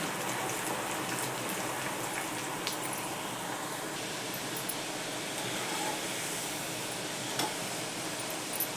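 Chana dal, added a little at a time, fries in hot oil with a dense, even crackling sizzle, close and continuous, with occasional small pops.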